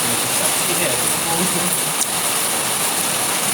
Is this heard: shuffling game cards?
no